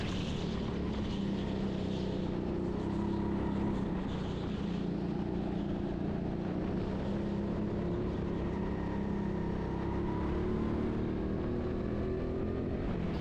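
An indoor go-kart at TeamSport Sheffield runs laps, its engine giving a continuous loud drone that rises and falls slightly in pitch as it goes round the track, with no voices.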